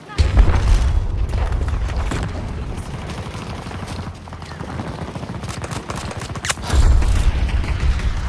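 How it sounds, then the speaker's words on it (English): Battlefield video game combat with a grenade explosion amid steady gunfire and booming blasts, loud and continuous, with a heavier boom near the end and voice chatter mixed in. "Grenade out!"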